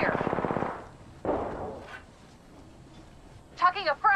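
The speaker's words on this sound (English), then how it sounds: "Taking fire." Gunfire in the Apex Legends video game: a dense rapid burst of automatic shots up front, a second shorter burst a moment later, then quieter play ending in a brief voice.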